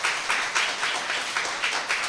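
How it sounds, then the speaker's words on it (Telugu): A church congregation celebrating Easter Resurrection claps in unison, a steady rhythmic pattern of loud, roughly evenly spaced bursts from many hands with no talk over it. "గట్టిగా చప్పట్లు కొడదాం, తప్పులేదు."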